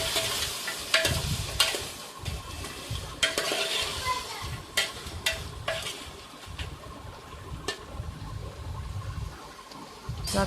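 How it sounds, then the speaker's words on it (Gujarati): Finely chopped tomato sizzles in a pan for spicy tempered rice, stirred continuously with close scraping and clattering utensil strokes over a constant frying hiss. "પછી બધું સરસ રીતે મિક્સ કરી લઈશું."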